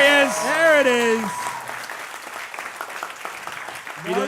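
Live comedy-show audience at Mississippi Stud breaks into sustained, close clapping for poster designer Chris Walton, the applause swelling after a voice speaks over its start.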